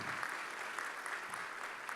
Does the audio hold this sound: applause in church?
yes